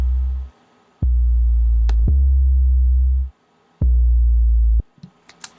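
A deep synth bass plays alone, a few sustained low notes separated by short gaps, thick and heavy, ending with a couple of light clicks.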